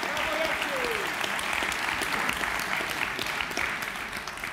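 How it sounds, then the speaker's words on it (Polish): Sustained applause from a crowd at a Polish political party's European election convention, dense steady clapping filling the whole stretch at even loudness. "Dziękujemy, wielkie brawa."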